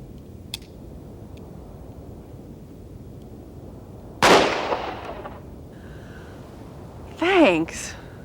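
A revolver loaded with a mix of live and dummy rounds fires once with a loud sharp crack, followed later by a second burst of noise, heard indoors on an old 1987 recording with talk around it.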